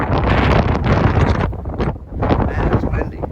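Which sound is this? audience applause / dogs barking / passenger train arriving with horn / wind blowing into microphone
wind blowing into microphone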